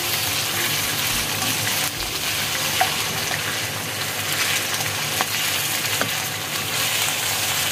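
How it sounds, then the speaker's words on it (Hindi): Chicken pieces fry for biryani in a pan, giving a steady, close hiss of sizzling oil that runs throughout with a few faint clinks and no talking. "एक साइड पे चिकन फ्राई हो रहा है"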